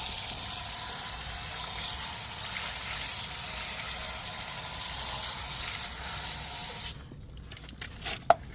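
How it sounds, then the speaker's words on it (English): Garden hose on a shower-pattern nozzle rinses a car with a steady, close hiss of spraying water, then cuts off abruptly near the end, leaving a few faint drips and clicks. "Then we have this set to shower because we don't want it to be a lot of water coming out splashing all over our clean car."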